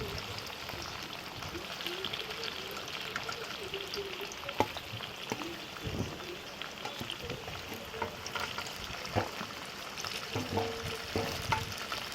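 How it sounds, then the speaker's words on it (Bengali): Paneer frying in a pan, a steady crackling sizzle with occasional pops and stirring scrapes, close and continuous throughout. "পনীৰখিনি ভজা হৈছে"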